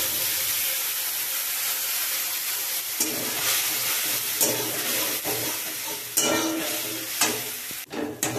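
Spice paste of turmeric, cumin, coriander, mustard powder and ground ginger frying in a pan, a steady close hiss and sizzle broken by occasional stirring scrapes and clinks, with no voices.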